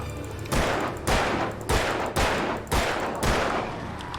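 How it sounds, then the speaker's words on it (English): Six loud, evenly spaced gunshots from the Alan Wake video game fire in a steady rhythm, each a sharp blast that rings out briefly before the next, with no talking. "That was a waste of 4 bullets."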